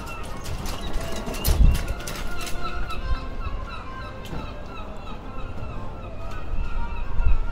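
Seagull calls play as ambient sound across the waterfront at Tokyo DisneySea, with repeated squawking cries over a busy outdoor background of crowd noise and footsteps, moderately loud throughout.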